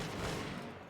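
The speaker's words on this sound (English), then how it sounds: "while the men form a firing line and just chip away at them" A musket volley from a firing line of 1700-era European infantry in the Bannerlord video game, heard as a dense, loud crackling burst of many overlapping shots that fades out within a second.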